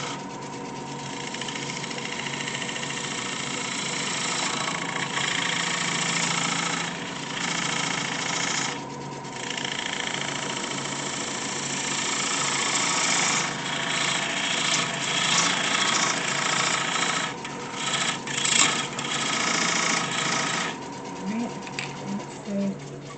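Continuous scraping and chattering of a homemade chisel tool cutting into a spinning wooden bowl on a lathe, steady and close with motor whine underneath and fluctuating bursts of cutting noise.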